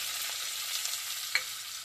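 Kohlrabi and green chillies frying in a pan, a steady, fairly quiet hiss of sizzling oil with a faint clink of stirring.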